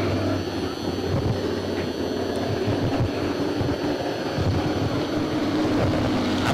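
A race car engine at a hobby-division racing event roars steadily in the distance, a continuous broad drone with wind noise that holds loud and even throughout.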